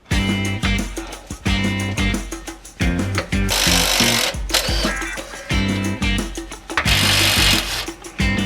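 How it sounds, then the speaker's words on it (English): Small impact wrench firing in loud, close bursts of rapid hammering, several short rattling pulses separated by brief pauses while working on a truck in a garage. "See if we got enough oomph on this little impact to make things happen here."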